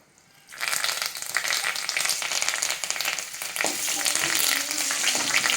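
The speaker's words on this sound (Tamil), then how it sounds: "ஒரு பாத்திரத்தை அடுப்பில் வச்சுட்டு தேவையான அளவு எண்ணெய் விட்டு அதில் நம்ம தாளிக்க வச்சுருக்க சோம்பு சேர்த்துருங்க" Fennel seeds and spices dropped into hot oil in a pan sizzle loudly right away, a close, steady frying crackle with stirring.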